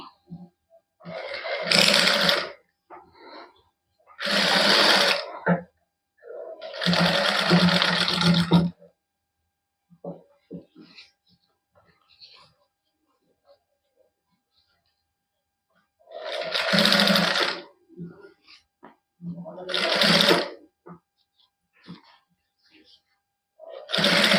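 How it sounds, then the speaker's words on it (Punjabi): Sewing machine running a basting stitch along a suit neckline in short bursts of steady whirring, several separate runs of a few seconds each with pauses between, close and clear. "ਇਹਦੇ ਉੱਪਰ ਹੁਣ ਲਾ ਦਾਂਗੇ ਆਪਾਂ ਕੱਚੀ ਸਲਾਈ"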